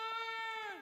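One cow call from livestock in a video game: a single short, loud, close lowing bleat that holds steady, then bends downward and fades at the end, with no talking.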